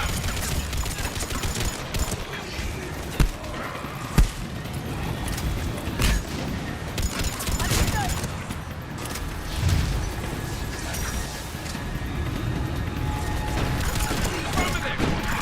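Sustained cover gunfire in the shooter Mass Effect 3, a dense ongoing fusillade with a few sharper cracks standing out, mixed with mechanical battle noise and muffled background voices.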